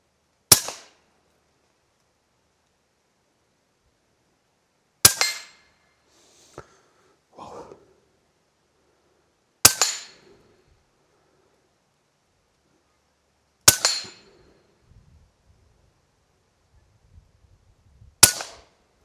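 Huben GK1 air rifle firing 48-grain pellets at maximum power, five sharp, loud cracks spaced about four to five seconds apart, each decaying quickly into near silence, with faint handling noises in between.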